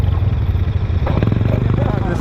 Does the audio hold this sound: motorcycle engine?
yes